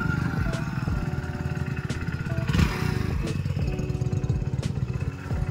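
Motorbike riding along at a steady pace, the engine drone continuous and fairly close with a few clanks and bumps over the road, no voices heard.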